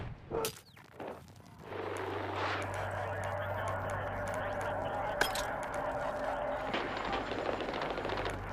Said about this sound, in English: Enemy jet operating in your area.